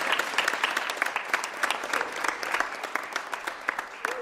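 An audience claps steadily at a local community event, dense and sustained applause with sharp individual claps scattered through it, fairly close and continuous throughout.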